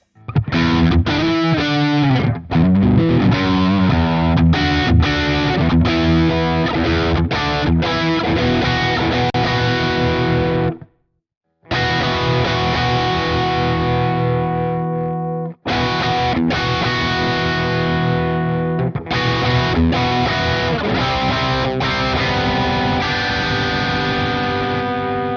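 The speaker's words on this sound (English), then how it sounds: "It kind of sounds like a chorus at this point, right?" A stock audio plugin's chorus effect thickens a sustained, distorted synth or guitar lead into a wide, shimmering sound. The tone plays loud and continuous with a few brief dropouts.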